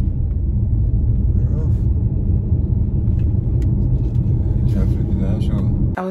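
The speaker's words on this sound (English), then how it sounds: "Wow. Look on the traffic." Steady low rumble of road traffic with cars passing continuously, loud and close throughout, with someone talking over it.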